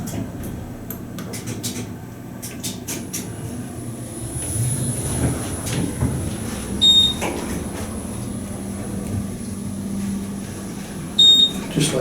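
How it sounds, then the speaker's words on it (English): An Otis GEN2 traction elevator in a Pittsburgh building closes its doors: a low mechanical rumble and sliding-door whir build and settle, with two short electronic chime tones sounding a few seconds apart over a steady hum. "press the door closed, and press the ground once it shuts."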